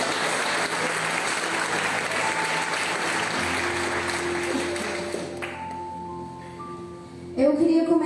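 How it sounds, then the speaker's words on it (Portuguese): A Baptist church congregation at a Wednesday evening service claps together in a sustained round over soft sustained keyboard tones, the applause thinning and fading out while the music carries on. "Você que pode, aplauda o Senhor."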